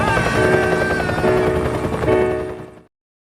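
A helicopter flies overhead in a Blue Lagoon film scene, a loud close rotor chop with a whining engine tone throughout before it cuts off abruptly.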